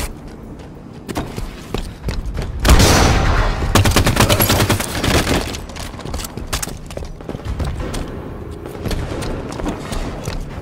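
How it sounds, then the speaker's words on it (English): Gunfire in a Halo 5 multiplayer match, including sniper rifle shots, with a cluster of loud sharp reports and rapid bursts mid-way and scattered shots and thuds before and after. "Sniper rifle."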